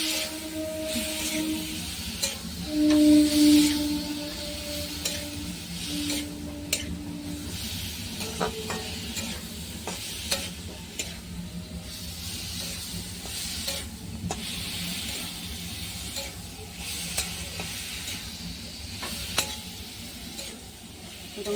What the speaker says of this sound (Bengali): একটু নাড়াচাড়া করা হচ্ছে।